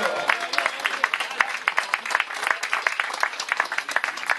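An audience applauds cyclists at a Telethon event, a fairly close burst of dense, continuous clapping that holds steady throughout.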